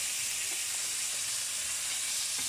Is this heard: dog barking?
no